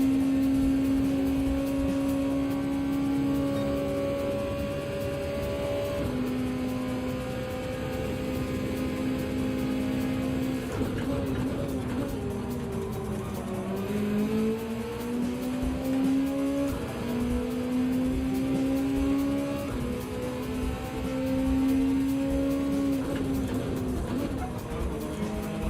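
A Gran Turismo 7 race car at Mount Panorama braking hard in third and dropping gears, the engine's steady tone falling and blipping before revving back up through long, loud acceleration runs, close and continuous.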